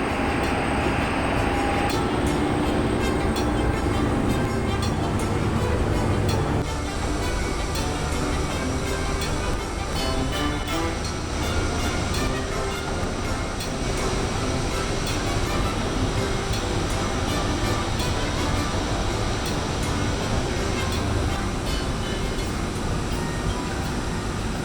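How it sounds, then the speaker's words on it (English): Steam blasts continuously from a small deaerator vent pipe at a coal-fired boiler plant, a dense, steady hiss and roar with a sharper whistling edge early on, loud and unbroken throughout. "The steam you see blasting out of the small pipe is the deaerator vent, which is used to purge air from the water."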